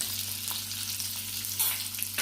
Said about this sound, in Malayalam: ഇതൊന്ന് വഴറ്റിയെടുക്കട്ടെ.